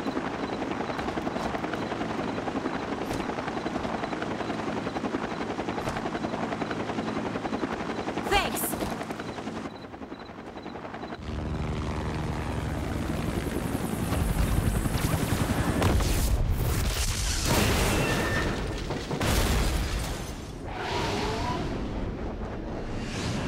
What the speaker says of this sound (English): It's a Mirage III battle drone.